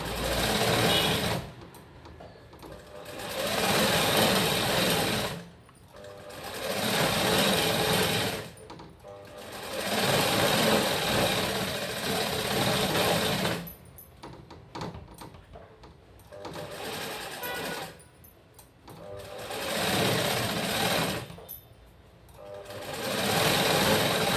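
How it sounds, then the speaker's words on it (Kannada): A sewing machine stitches a blouse for a 36-inch bust in repeated bursts of fast, rattling whir, each run lasting a few seconds and separated by short pauses, close and fairly loud. "ಫಾಸ್ಟಾಗಿ ನಾವು ಸ್ಟಿಚ್ ಮಾಡಕತ್ತೇವೆ"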